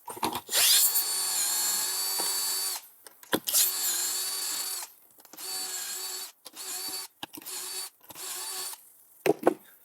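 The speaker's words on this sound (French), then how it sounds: "On prend une petite perceuse et on fait des petits trous." A small drill whines in several bursts of a second or two each, close by, with short pauses between runs as it bores into wood.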